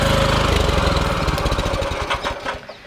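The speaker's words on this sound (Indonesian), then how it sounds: "Firman FTL 900 HG Jago adalah kultivator yang serbaguna." A Firman FTL 900 HG mini cultivator engine runs close by, a loud, rapid chugging putter that gradually softens and slows near the end.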